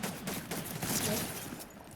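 Rapid bursts of video game gunfire crackle densely for a couple of seconds, loud and continuous with no pauses between shots.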